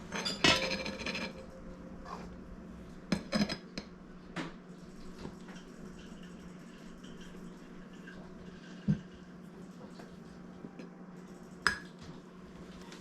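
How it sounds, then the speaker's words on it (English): A one-cup measuring cup clinks against a bowl while flour for homemade pancake mix is measured out, giving a few sharp, close metallic taps spread through a quiet kitchen with low background hum. "Grab my 1 cup measuring cup."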